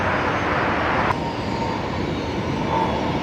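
A Singapore airliner passing over Brisbane Airport gives a steady, broad jet roar that holds close and loud throughout, with no voices.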